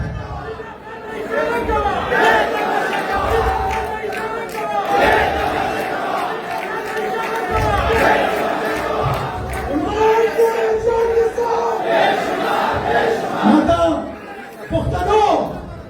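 A crowd at a political convention in Pakistan shouts and chants slogans together in loud rising bursts, with voices swelling and dropping between calls, over a reverberant hall.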